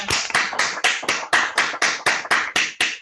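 A quick, steady run of sharp hand claps, about a dozen in three seconds, fairly close and even in rhythm, as an online audience applauds at the end of a talk on Spanish Golden Age dramatic literature.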